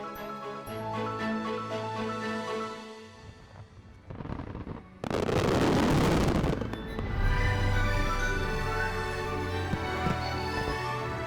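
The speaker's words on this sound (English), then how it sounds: "Fireworks lit up the night sky in Seoul last Saturday during the 2024 Seoul International Fireworks Festival over the Han River" Fireworks bursting over the Han River at the 2024 Seoul International Fireworks Festival at night, with layered crackling and booming blasts that rise to a loud, dense volley midway and then give way to continued crackle and rumbling pops.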